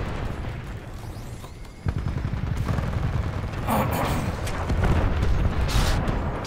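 Pistol gunfire in the Titanfall 2 video game, loud repeated shots blending with booming explosions and dense battle noise through most of the stretch.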